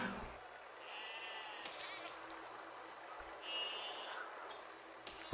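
Sheep in the physics-based building game Besiege bleat in two drawn-out calls, one early and one later, over a steady hum of game ambience with no speech.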